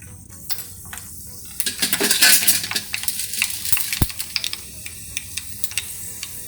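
Mustard seeds hit hot oil in a small tempering ladle, bursting into a sharp crackling sizzle that peaks and then thins into scattered pops and metallic clinks, with no voices.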